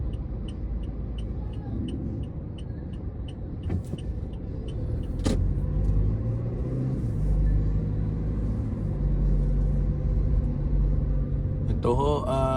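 Slow-moving Christmas rush traffic on Alabang Zapote Road, a steady low rumble of car engines nearby, with a sharp knock partway through and a brief whirring near the end.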